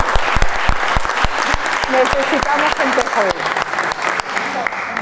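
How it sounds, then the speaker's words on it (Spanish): Applause from an audience at a university talk on Fahrenheit 451, with sharp claps in the opening seconds and a sustained crowd clapping after them, while a voice speaks over it. "te vamos a aplaudir."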